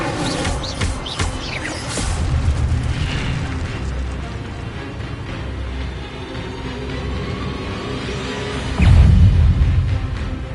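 Incendio fire spell bursts in the Hogwarts Legacy video game amid other spellcasting: a sustained roaring, crackling blast with mechanical clatter, swelling again into a heavy low boom near the end, loud and close.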